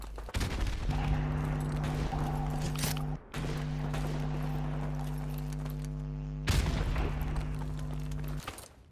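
Gunfire in the video game Call of Duty: Modern Warfare Remastered: continuous rapid shots rattle over a steady humming tone, briefly cutting out twice, loud and up close.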